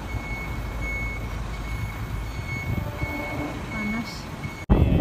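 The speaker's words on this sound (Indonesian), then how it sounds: "Truk yang bawa barang-barang kita" A moving truck arrives with a steady, evenly spaced reversing beep sounding over a low diesel engine rumble, before a sudden louder thump at the end.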